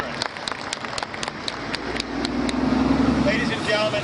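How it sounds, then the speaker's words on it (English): Applause rises from the audience at a Vietnam veterans memorial service, beginning as scattered claps and swelling into a fuller, steady ovation by the end. "I'd like to acknowledge them with a round of applause for their support"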